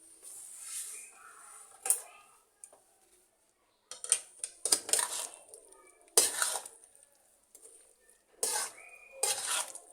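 Potatoes and yogurt being stirred together in a pot: intermittent scraping and clinking of a spoon against metal in short irregular bursts with pauses, fairly quiet and close.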